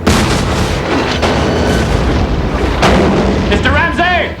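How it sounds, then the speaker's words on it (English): Cannons fire from ironclad warships in a naval battle scene from the 1991 film Ironclads, with loud, continuous booming, a sharp blast near the end and shouting voices crying out over the din. "Mr. Green, the captain says to clear your ports and commence firing"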